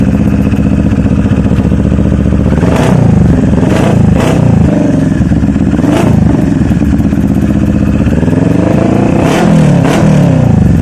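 A CFMoto NK400 motorcycle fitted with an Akrapovic Hexa exhaust and no silencer revs hard and loud up close, with several sharp throttle blips rising and falling over a rumbling idle.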